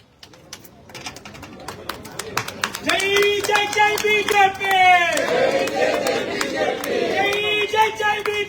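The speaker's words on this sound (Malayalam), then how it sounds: "നമ്മുടെ എല്ലാ പ്രവർത്തകരും ഒന്ന് മുദ്രാവാക്യം വിളിച്ച് കയ്യടിയോടുകൂടി ഇവരെ സ്വീകരിക്കണം" At a political party rally, a crowd of workers claps in a rapid, dense patter that builds, then many voices chant slogans together loudly in rhythmic, repeated calls over the continuing applause.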